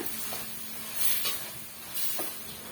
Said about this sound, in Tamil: தக்காளி பழம்லாம் நல்லா வந்து வதங்கி வரட்டும் இடையிடையே இது போல் கிண்டி கொடுத்துக்குங்க